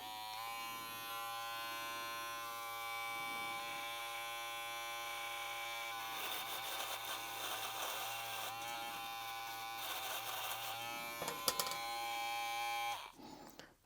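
Kemei KM-1386 two-speed hair clipper running on its high speed setting at about 7,500 RPM, a steady close electric buzz with a rich whine. Its tone roughens mid-run as it cuts through hair, then it switches off abruptly.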